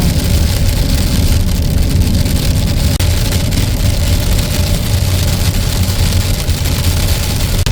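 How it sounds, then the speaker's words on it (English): Hail and rain from a winter storm pound the roof and body of a parked Honda Element in a steady, dense, loud roar that never lets up, with no voices. "And here's the rest of that storm they were calling for. More hail."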